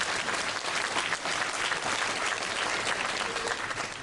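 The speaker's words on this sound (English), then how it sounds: "So how about a big round of applause?" Steady applause from an audience at a 2014 KCC gala, a dense, even wash of clapping that holds at a moderate level for the whole stretch without any talk over it.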